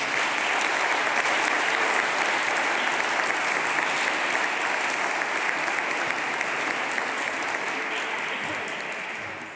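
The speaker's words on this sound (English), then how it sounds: "please give a warm round of applause" A large audience gives a long, warm round of applause for award winners at an Excellence Day event. The clapping stays dense and even for about nine seconds, then begins to fade right at the end.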